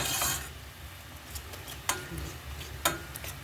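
Mixed wild greens, including mallow and shepherd's purse, sizzle and hiss in a pan while a utensil stirs them, with a few sharp scrapes and clicks against the metal.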